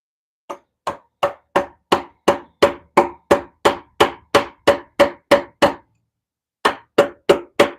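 Hand woodcarving with a chisel, struck sharply about seventeen times in a steady rhythm, a pause, then four more blows, loud, close and without talk.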